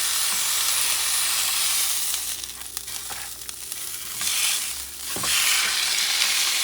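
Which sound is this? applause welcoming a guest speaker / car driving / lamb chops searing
lamb chops searing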